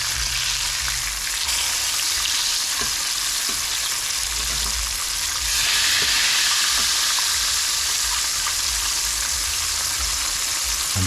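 Fish fillets frying in a pan, turned over partway, give a loud, steady sizzle and crackle throughout, close up and with no talking.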